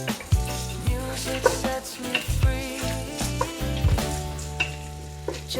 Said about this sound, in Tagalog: I-fry natin yan, yung sibuyas natin.